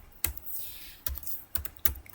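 A computer keyboard is tapped while entering a default gateway address during switch configuration. A handful of sharp, separate keystrokes come in an irregular rhythm over a quiet background.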